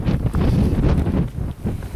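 Strong wind blows hard outdoors in snow beside a snowdrift at home, a loud continuous low rumble that buffets the microphone with gusty surges and brief dips, without any speech.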